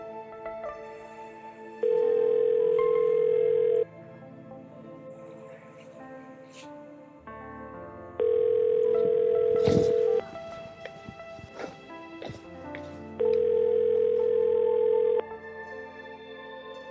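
An unanswered phone call plays as three long, even ringback tones separated by pauses, moderately loud over faint room noise and scattered small knocks.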